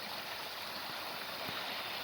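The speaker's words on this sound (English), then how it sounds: "There's always going to be running water here, but it's not like the rushing stream like it was the other day" A partly frozen stream runs gently in a snowy outdoor setting on a cold storm day, giving a steady, even rush of water throughout, with no talking.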